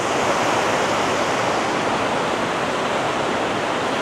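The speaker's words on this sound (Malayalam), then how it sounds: "നല്ല രസമുണ്ടാ വെള്ളം വീണ് പോണ കാണാനായിട്ട്" Rapidly falling water roars steadily and loudly throughout, a dense, unbroken wash of noise like a close waterfall or released sluice.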